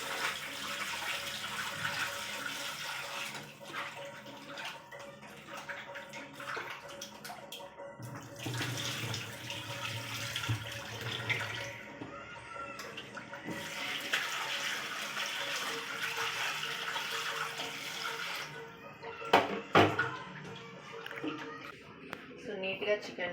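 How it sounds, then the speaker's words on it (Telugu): Tap water pours and splashes steadily while raw chicken, about a kilogram, is washed in a kitchen sink, with squishing and dripping; a person talks over the running water throughout. "సో నీట్గా చికెన్ని కడుక్కోవాలి."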